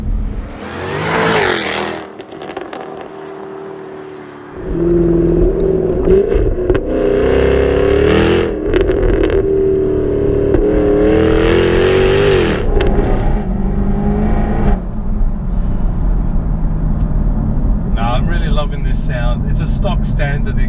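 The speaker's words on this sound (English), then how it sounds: "It's a stock standard exhaust system, and stock standard, let me tell you, this is one of the greatest sounding V8s." Jaguar F-Type R with a V8 engine and stock exhaust, starting with a sharp blip, then a loud sustained rev that climbs and falls in waves, followed by crackling pops, with someone talking over parts of it.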